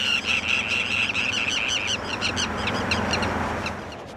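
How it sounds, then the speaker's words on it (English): Forster's terns in a wetland give loud, repeated harsh calls in a rapid overlapping chorus, strongest early and fading slightly toward the end over a low background rumble. "Now I found where all the foresters' terns are hanging out, making a big racket."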